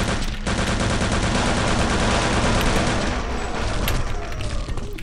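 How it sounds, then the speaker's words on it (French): A Thompson submachine gun firing in the shooter game Return to Castle Wolfenstein, a loud continuous burst of rapid automatic fire lasting several seconds after a brief break at the start. "Le fusil Thompson, ça c'est de la cam américaine, mec."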